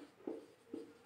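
Two short, soft strokes of a pen writing on paper, faint and close in a quiet room.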